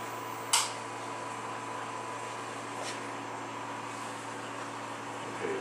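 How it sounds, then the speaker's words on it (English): The mechanical vacuum pump of an electron microscope pumps down the chamber with a steady, even mechanical drone, punctuated by a sharp click near the start and a fainter one midway. "mechanical pump, and it sucks it in there, and it's pumping this now out to 10 to the minus 2 torr"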